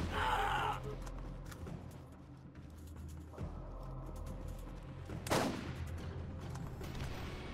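Enemy turret gunfire in Borderlands rattles at moderate distance, scattered shots and short bursts over a low droning game backdrop, with one sharper crack near the end.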